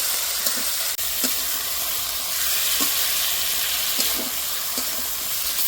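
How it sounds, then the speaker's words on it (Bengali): Fried potatoes sizzle in hot oil and spice masala in a pan, a steady close frying hiss broken by occasional soft scrapes and stirring knocks. "এবার দিয়ে দেবো ভেজে রাখা আলু। আলু দিয়ে আবার একটু কষে নেব।"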